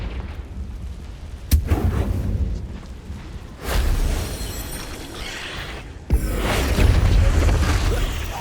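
Confringo blasting spells in Hogwarts Legacy land as heavy, booming explosions, with three sharp loud impacts each followed by a sustained rumbling roar.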